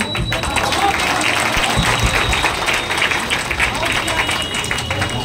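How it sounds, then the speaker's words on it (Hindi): Crowd clapping at an independence day comedy skit, a dense, steady round of applause lasting several seconds with voices mixed underneath. "बजाओ ताली"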